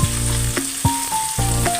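Onion frying with a bay leaf and a little salt in a pan for Bengali mutton liver chorchori gives a loud, close, continuous sizzle with a few brief scraping stirs.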